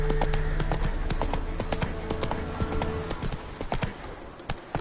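Roach the horse trotting in The Witcher 3, with steady rhythmic hoof clip-clops up close and a faint voice at times.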